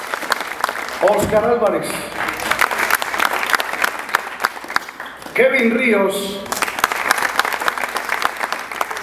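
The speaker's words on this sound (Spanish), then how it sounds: "Fuerte aplauso para todos ellos." A crowd at a cycling team presentation for EPM Tigo Une 2016 claps loudly and steadily throughout, while an announcer speaks over the applause.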